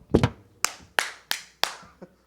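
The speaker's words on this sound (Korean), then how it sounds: "야, 박수 더 크게 쳐." Several sharp hand claps at an uneven pace, loud and close, in a church youth worship service, with the last clap softer than the rest.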